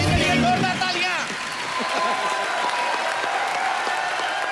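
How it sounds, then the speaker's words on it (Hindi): A studio audience on a comedy talk show claps and cheers loudly, the applause carrying on steadily after an opening burst of voices and cheering. "मेरे भाई के लिए जोरदार तालियां।"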